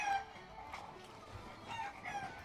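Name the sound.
hens clucking and crowing in a pirate video game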